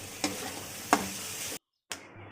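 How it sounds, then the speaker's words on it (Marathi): Onion, garlic, ginger and tomato frying in a pan, a steady close sizzle punctuated by a few sharp scrapes of stirring, with a brief dropout before the sizzle resumes. "लसूण टाकून लसूण पण भाजायचं थोडा. अद्रक टमाटा टाकून सगळं काय भाजून घ्यायचं."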